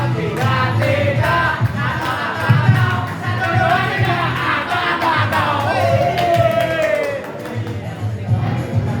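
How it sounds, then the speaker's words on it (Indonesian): An audience at a stand-up comedy competition grand final claps and cheers for a comedian, with scattered sharp handclaps over a steady crowd roar, some shouts and a few voices talking throughout. "Berikan tepuk tangan yang meriah untuk Ato Kato."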